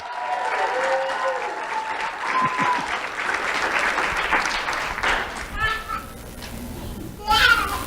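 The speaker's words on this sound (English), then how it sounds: "Let's have a round of applause for Degan Johnson." A crowd at a monthly awards ceremony honoring a high school student breaks into sustained applause, mixed with children's voices and chatter, then thins out near the end.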